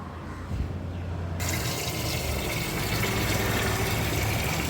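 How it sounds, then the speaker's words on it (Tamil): Water pours steadily into a pot of washed rice and chicken feet, a continuous rushing splash that grows fuller partway through, with no talking. "ஒரு குறிப்பிட்ட அளவு தண்ணீர் ஊற்றி"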